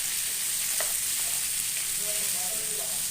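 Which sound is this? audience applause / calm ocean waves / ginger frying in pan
ginger frying in pan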